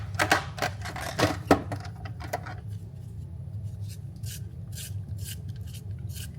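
A Morphe Trendsetter lip liner pencil is sharpened with quick, close rasping strokes in a rapid burst, followed by lighter, scattered scraping clicks.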